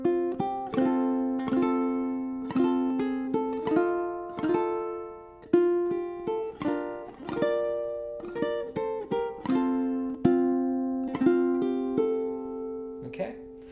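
A ukulele plays a song, mixing strummed chords with plucked notes in a steady, gentle rhythm, each chord ringing out and decaying; close and clear with no talking.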